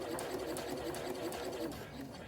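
A sewing machine stitches a bag tag in place, running steadily at close range and slowing slightly toward a corner, with a continuous mechanical whir and no talk over it.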